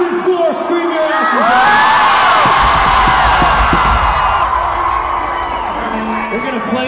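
A large concert crowd on the arena floor at Wembley Arena, at a 30 Seconds to Mars show, screams and cheers in a dense, sustained roar of whoops and yells that fills the whole stretch.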